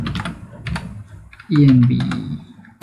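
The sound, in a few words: typing a command on a computer keyboard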